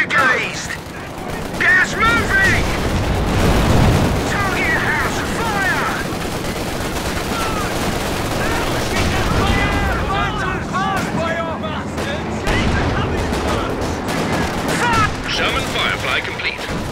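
Gunfire and artillery from the World War II strategy game Company of Heroes 2 crackle steadily throughout, with scattered shots and bursts under continuous talk and game voices.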